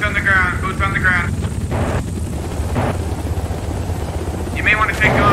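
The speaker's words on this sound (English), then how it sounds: "you got a helicopter coming" A helicopter flies overhead in the military shooter game Squad, giving a steady rotor drone under bursts of radio chatter and gunfire. Players talk over the noise.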